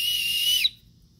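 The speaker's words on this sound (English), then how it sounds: "it's a safety whistle as well." A safety whistle built into a camping spork gives one shrill, steady blast that stops abruptly after about half a second, close and alone.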